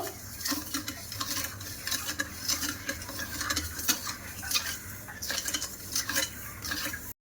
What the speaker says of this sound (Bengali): হাফ বাটি চিনি দিয়ে দেবো দিয়ে বেশ ভালো করে দুধটা গুলে নেব দুধের সঙ্গে মিশিয়ে নেব